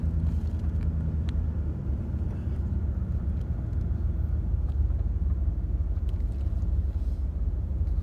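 A 1999 Dodge Ram 1500 pickup truck drives along, its engine and road noise forming a steady, loud low rumble from inside the cab that holds constant throughout, with no talking.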